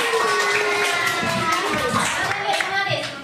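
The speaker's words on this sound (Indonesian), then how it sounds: "Beri tepuk tangan untuk mereka." Students in a classroom teaching session are applauded with a burst of hand clapping mixed with children's voices, near and steady for a few seconds.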